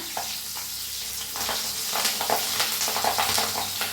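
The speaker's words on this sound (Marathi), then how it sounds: "त्या मिरच्या आहेत ह्या खूप छान होतात बरं का. तुम्ही करा. कमी करून तळून घ्या." Green chillies fry in hot oil over lowered heat, giving a steady close sizzle and crackle with small popping bursts throughout, no voices present.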